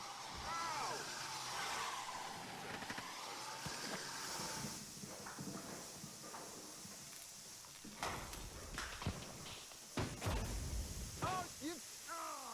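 A car engine runs on a dirt track in Mozambique while its tyres skid, with rough, uneven bursts of engine and gravel noise under excited shouting voices.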